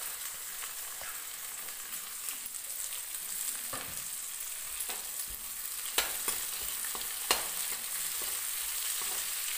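Steady sizzling of garlic and ginger frying in hot oil, with occasional stirring clinks and pops, close and continuous.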